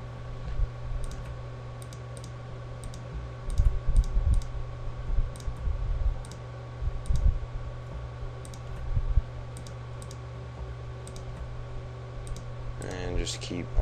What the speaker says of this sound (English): And just keep alt clicking and just drag over this.